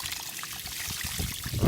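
Water splashes and trickles while a car's underside is rinsed out with a hose, a short close wet gush that swells toward the end.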